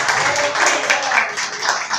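A Portuguese-speaking church congregation claps and cheers together in a steady, dense wash of applause throughout.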